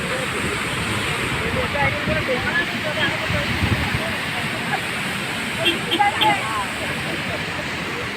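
Water rushing through an opened gate of Mattupetty dam in Munnar, Kerala, a steady, broad roar close by, with people talking over it.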